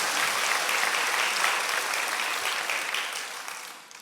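Church congregation clapping in praise after a choir's hymn at a Korean Full Gospel church service, a dense, steady roar of applause filling the room and slowly fading toward the end.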